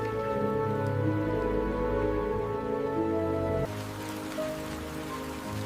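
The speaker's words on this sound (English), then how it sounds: "Rain comes lightly at first." Steady patter of light rain falling on a surface, a soft continuous wash with faint drops, dipping slightly in level partway through.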